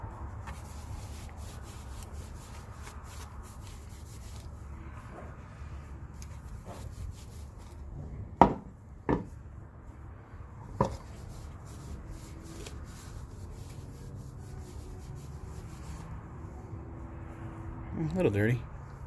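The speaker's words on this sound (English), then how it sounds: "we're going to go and wash them down real quick. So, get any dirt or grease or anything off of them" Wet rubbing and wiping on the tail lights of a Chevrolet Cobalt SS as dirt and grease are washed off, a low, steady scrubbing texture broken by a few sharp knocks and taps.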